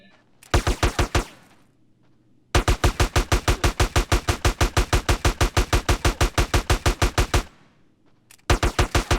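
Rapid automatic gunfire in GTA San Andreas, loud close bursts of evenly spaced shots: a short burst, a long sustained string of around thirty rounds, then another short burst after a pause.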